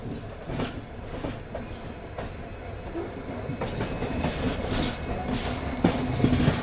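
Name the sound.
diesel locomotive train passing on railway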